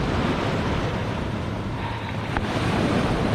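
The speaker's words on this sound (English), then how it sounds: "Let's go walking in the surf" Ocean surf washes steadily at Phala Beach in Ban Chang, Rayong, Thailand, a loud, constant roar of breaking waves blended with wind buffeting the microphone, with no one speaking.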